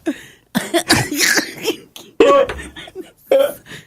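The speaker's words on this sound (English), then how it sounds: "I can cough now freely because we're talking about it" Several harsh coughs and throat clearings come in bursts with short pauses between them, close to the listener, with a little talk mixed in.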